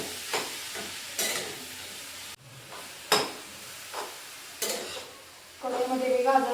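Grated carrot sautéed in a wok for carrot halwa: a soft background sizzle broken by several sharp stirring scrapes at irregular intervals, growing busier and louder at the end.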